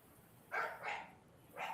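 A dog barks three times at a distance, faint, unevenly spaced woofs against a quiet background.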